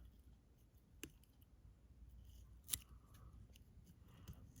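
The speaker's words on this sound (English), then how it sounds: "let's come in and trim off the butts." Scissors trim the butt ends of elk hair tied onto a fly, giving a couple of faint, isolated snips in a quiet room.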